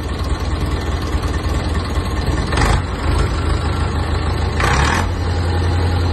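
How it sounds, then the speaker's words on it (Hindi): An HMT 5911 tractor engine idles steadily with a low, chugging rumble, briefly revving up twice before settling back. "हुण ट्रैक्टर की आवाज़ चैक कर लो, पूरी सोहनी आवाज़ आ ट्रैक्टर की"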